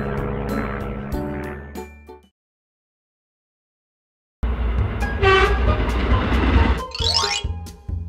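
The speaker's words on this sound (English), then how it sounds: "Commuter train." A train rumbles and clatters past with horn blasts, then a short silence before louder rolling rail noise with more horn and whistle tones.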